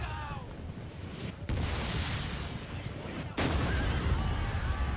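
Armstrong gun artillery firing in a historical strategy game set at the Battle of Toba-Fushimi, a sustained rumble of distant gunfire broken by two heavy booming shots, with light talk in the background.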